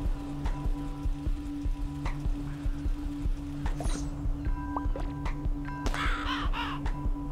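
Birds caw in the video game Donut County, with a few scattered caws over a steady game ambience of dripping, rain-like ticks and a low hum.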